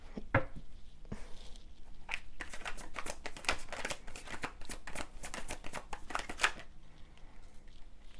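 Tarot cards riffle and shuffle in a dense run of quick, crisp slaps and flutters, close and fairly loud, pausing briefly near the start and fading out at the end.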